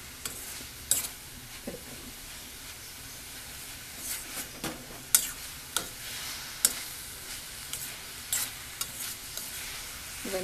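Grated coconut heating and being stirred in a pan for an amaranth-leaf thoran, giving a faint, even sizzle broken by sparse, distinct knocks of a spoon against the pan, close by with no voices.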